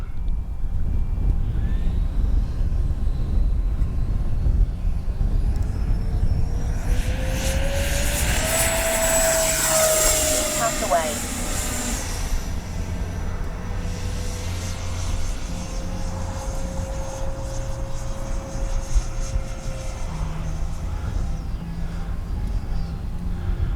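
A Freewing 70mm Yak-130 RC model jet whines past with a high, rising then falling pitch as it flies by, over steady wind noise outdoors.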